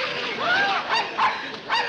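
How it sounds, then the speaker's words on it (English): A vicious dog barks several times in quick succession, close and loud, with sharp yipping barks. "That vicious dog is going to attack me."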